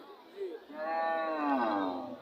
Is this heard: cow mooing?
yes